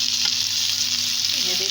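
Lentil kebabs fry in a pan with a steady, close sizzle and a faint crackle, no voices over it.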